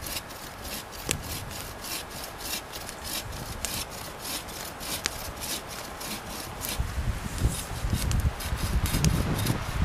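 A hand bow saw cuts through wood in a steady back-and-forth rasp, each stroke a close, rough scrape, growing heavier and louder toward the end.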